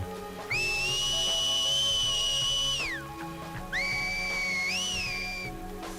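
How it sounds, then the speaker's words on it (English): Cult enemies in The Last of Us Part 2 trade two loud, piercing code whistles, the first a long sustained tone that slides down at the end, the second shorter with a rising-falling bend, over a quiet ambient bed. "They have their own forms of communication, using different code whistles, which some are kinda scary."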